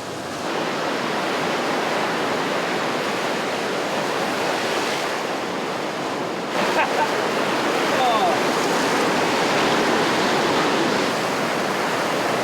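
Calm sea washing against rocks at a fishing spot, a steady broadband wash of surf that stays close and fairly loud throughout, with wind buffeting the microphone and a slight surge partway through.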